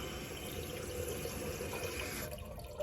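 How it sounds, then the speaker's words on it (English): Steady hiss of water running inside a leaking toilet, a constant close trickle with no breaks and no voices. "so that's the sound of your toilet leaking"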